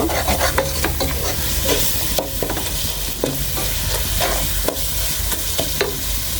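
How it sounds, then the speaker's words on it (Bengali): Spiced ingredients for fish khichuri, seasoned with salt and turmeric, sizzle in a pan while a spoon stirs and scrapes them in irregular knocks and scratches, with a steady frying hiss underneath and no voices. "সবগুলো উপকরণ আমি সুন্দরভাবে কষে নিব"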